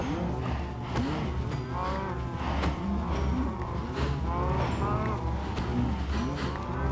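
Cows in the video game Minecraft moo repeatedly in overlapping calls from a crowded herd, steady and fairly loud throughout.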